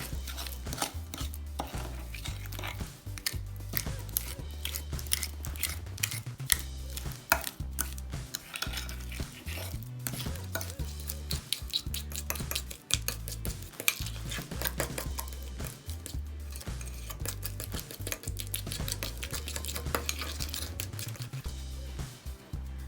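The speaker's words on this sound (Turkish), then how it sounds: "Şimdi bu yağımızın üzerine 2 çorba kaşığı toz şekerimizi karıştırıyoruz." A spoon stirring two tablespoons of granulated sugar into oil, a steady, busy run of close scraping and clinking against the bowl that continues for the whole stretch, with no talk over it.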